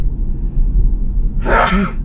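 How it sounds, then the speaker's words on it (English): One loud, abrupt sneeze bursts out near the end over a low, steady background rumble. "Gotta sneeze."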